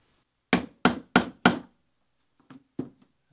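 A rivet setter is tapped down onto a solid brass rivet in leather for a satchel: four sharp, evenly spaced knocks, then a pause and a few softer taps, close and isolated.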